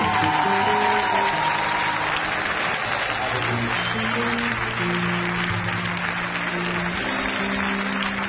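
Steady, enthusiastic applause from a church congregation at a French-speaking service, a dense continuous clapping that fills the room throughout, with organ or keyboard chords sustained beneath and a voice speaking over it.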